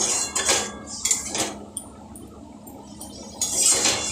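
A cooking pot of greens with potatoes getting a little water and then its lid, with bursts of metallic clanking and clinking, a brief knock and a quieter pause between, close up.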